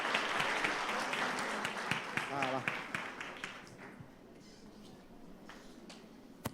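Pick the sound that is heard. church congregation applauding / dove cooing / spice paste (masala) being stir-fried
church congregation applauding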